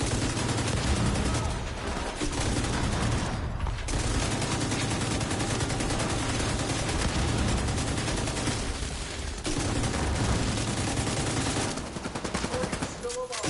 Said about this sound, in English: There's so many grenades going on. Like they're spamming grenades like every second.